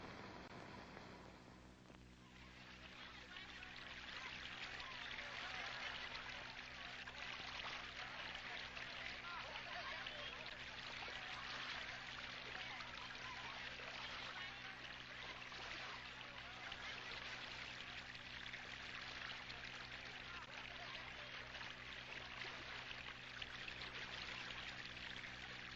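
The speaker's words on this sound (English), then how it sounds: "The river was everything." A river flows in a steady, continuous wash of water that holds even throughout, with a faint low hum running underneath.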